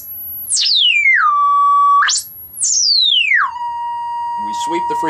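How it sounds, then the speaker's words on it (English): A signal generator sweeps tones through a repaired horn driver. Two loud whistling sweeps glide down from very high to a lower steady pitch, and faint talking is heard near the end. "You can hear the generator working."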